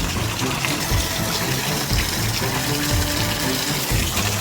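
Water flowing at a waterfall in the Sivanathapuram hills with only a little water coming down, a steady close rushing gush without pause.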